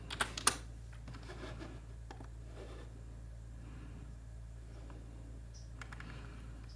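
A short burst of computer keyboard keystrokes as a search is typed clicks sharply at the start, then gives way to sparse faint taps over a low steady hum.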